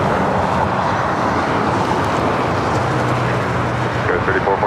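An Air Tahiti Nui airliner taking off at LAX gives a steady, broad jet roar that holds at an even level throughout, with a faint voice murmuring underneath.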